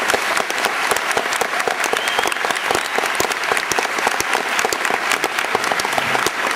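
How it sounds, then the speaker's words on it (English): Steady, dense applause from an audience in Copenhagen greeting Jacque Fresco, many hands clapping continuously at an even level throughout with no talk over it. "please give an applause to Mr. Fresco"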